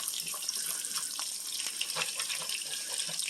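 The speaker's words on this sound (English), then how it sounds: "I'll just take this grease and just splash it right over the egg" Hot bacon grease spooned over an egg frying in a pan on a stovetop, a close, continuous crackling sizzle with scattered sharp pops, no talking.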